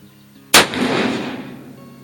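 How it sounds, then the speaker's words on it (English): A single loud blast from an 1858 Pietta black powder revolver booms after a brief quiet moment, then fades in a long rumbling echo. "I think we kind of got lucky on that shot"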